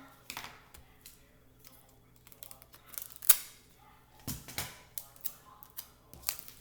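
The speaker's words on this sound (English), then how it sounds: "Let me get some tape here." Tape being pulled off a roll during a classroom reading lesson, heard as a few sharp ripping and tearing bursts in a quiet room, with scattered small handling clicks between them.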